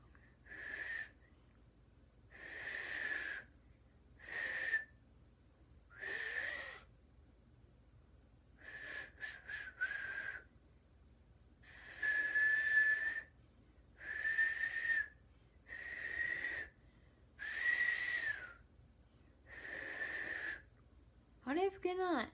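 A person whistles a series of short, clear notes in separate bursts with brief pauses between them, close and fairly soft.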